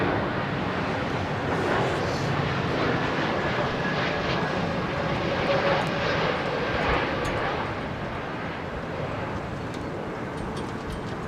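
A V12 piston aircraft engine drones steadily at Heathrow on a windy day, a loud continuous roar with no talk over it.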